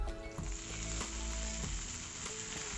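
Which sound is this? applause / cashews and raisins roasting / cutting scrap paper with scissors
cashews and raisins roasting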